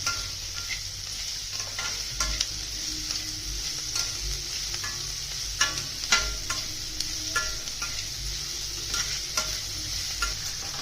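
Chopped okra sizzles steadily in a pan over a high flame, with repeated scraping and clattering stirs cutting through the continuous frying hiss, close and moderately loud.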